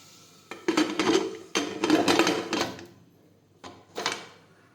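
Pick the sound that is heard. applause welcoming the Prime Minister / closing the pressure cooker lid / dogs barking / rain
closing the pressure cooker lid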